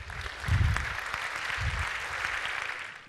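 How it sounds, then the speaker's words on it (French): Audience applause for two volunteers at a magic and sleight-of-hand show, a moderately loud spread of clapping that swells early and stays steady for a few seconds. "On peut les applaudir."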